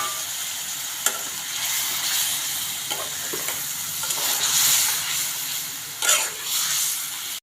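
Spiced water is poured over potatoes frying with turmeric, ground spice paste and salt, setting off a loud, hissing sizzle that rises and falls with a few sharp bursts and stirring scrapes.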